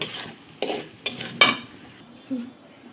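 Garlic pieces stirred into frying spice paste in a pan for a fish-head muri ghonto, giving a few sharp scraping stirs over a steady low sizzle.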